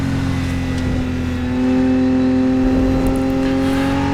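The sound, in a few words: Porsche race car engine in video game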